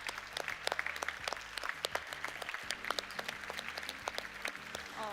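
An audience claps at the close of an EU youth conference in Växjö: steady, moderately quiet applause with distinct individual hand claps over a low room hum, lasting several seconds.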